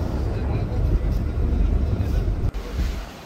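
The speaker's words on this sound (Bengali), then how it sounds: "শাহরুখ 2 আজ তার গতির খেলা দেখাচ্ছে, বেশ দ্রুত গতিতে লঞ্চটি এগিয়ে যাচ্ছে।" The passenger river launch Shahrukh 2 speeds ahead while overtaking another launch, giving a steady, loud engine and water rumble with wind buffeting the microphone throughout.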